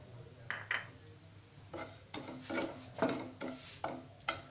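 Cumin seeds dry-roasting in a pan on a medium flame for red chili pickle, stirred with a spoon that scrapes and clinks against the metal in a series of short bursts, close and fairly clear.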